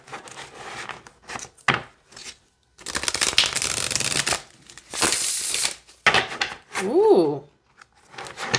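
A new Field Tarot deck is shuffled by hand in repeated bursts of riffling and sliding, close and crisp, with short pauses between and a brief voice near the end.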